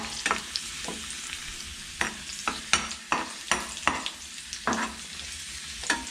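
Raisins frying in ghee for a Kerala beef biryani: a soft continuous sizzle broken by repeated sharp scrapes and stirs of a spoon against the pan, close up with no talking.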